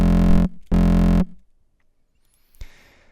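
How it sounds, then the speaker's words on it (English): Two bursts of heavily distorted synth tone with boosted lower mids give a hollow, buzzy electro character, each about half a second long. Silence follows, then a short sharp hit. "we get a bit more of like a kind of electro, kind of hollow sound from the distortion."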